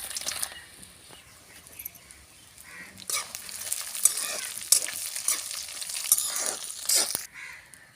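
Garlic frying in a pan with cumin for gongura pickle, a crackling sizzle that swells as it is stirred, with scattered spatters and utensil scrapes.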